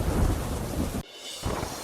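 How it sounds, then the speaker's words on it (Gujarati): Heavy rain pours down in Daman, Gujarat, a dense loud roar with thunder rumbling underneath. It drops briefly to quieter rainfall midway, then the downpour swells again. "દમણના અનેક વિસ્તારોમાં ધોધમાર વરસાદ."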